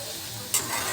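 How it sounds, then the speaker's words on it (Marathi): Roasted, soaked cowpeas stir-fried in a pan for a ridge gourd vegetable dish, giving a short burst of scraping and sizzling partway through one close, brief stir. "छान परतून अशी घेऊया"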